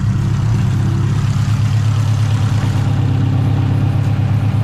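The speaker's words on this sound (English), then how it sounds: "I'm gonna go give it another rev." A car engine with a Garrett turbo, just fitted with a new coolant hose after the old one cracked, runs with a steady low rumble close by, a slight lift partway through.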